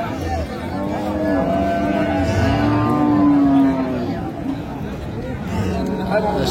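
Dairy cows and calves at the Raniganj cattle market in Dinajpur give a long, drawn-out moo amid the crowd's murmur, with people talking nearby.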